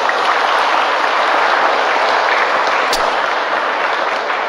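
An audience at an Islamic lecture applauds the preacher, a loud, dense, steady wash of clapping from many hands that fills the whole stretch without talk.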